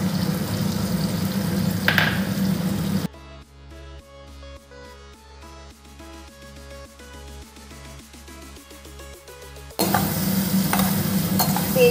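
A premixed spice paste hits fried onion and tomato in a hot pan, giving a close, busy sizzle and stirring at the start that stops for a long musical interlude, then the sizzling returns.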